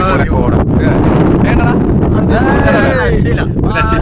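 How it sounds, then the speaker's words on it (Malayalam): Strong wind buffets the microphone at a hilltop viewpoint about a thousand feet above sea level, a loud continuous roar throughout with gusting rumble and a voice speaking underneath. "നിങ്ങൾക്ക് അറിയാം കാറ്റ് എത്രത്തോളം ദമ്മുണ്ട് എന്നുള്ളത്"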